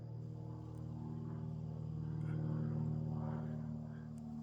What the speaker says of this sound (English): anyway, it's a propeller plane,